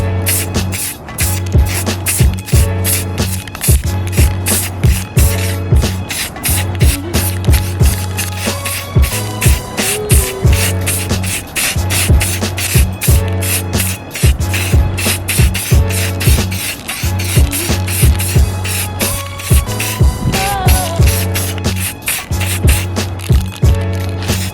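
Satin black Color Shot spray paint applied to Genesis Coupe tail lights, repeated hissing bursts from an aerosol can in a steady rhythm, close and loud, with no voices.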